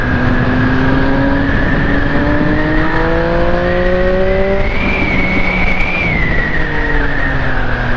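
Sport motorcycle fitted with a quickshifter, engine loud and close as it revs while riding, pitch climbing through rising sweeps with quick shifts and wind rush under it.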